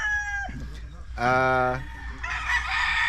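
A rooster crows loudly nearby, a long harmonic call, with other fowl sounds and background noise around it.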